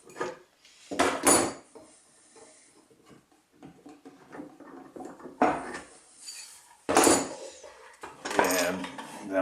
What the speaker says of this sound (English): I'm going to undo the clamps so I can turn it over